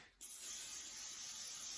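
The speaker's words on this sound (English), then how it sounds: "I've got the olive oil Pam. I'm going to spray a rack." An aerosol can of olive oil cooking spray is sprayed onto a grill rack, a single sharp onset followed by a steady close-up hiss that continues to the end.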